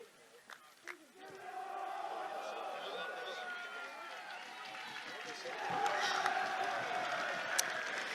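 At Hartpury, a home rugby crowd cheers and shouts in a sustained, fairly distant roar that swells near the end, with a commentator talking over it.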